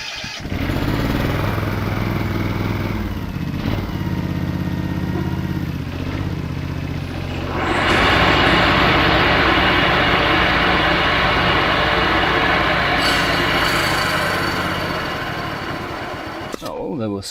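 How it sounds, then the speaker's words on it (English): An old ride-on mower left outside for five years runs with a loud, steady engine drone and a clattering rattle from dry bearings, growing rougher and louder about halfway through and holding close to the microphone until it cuts off. "I'll start her up and see what sort of racket it makes. It's going to be pretty noisy with those dry bearings."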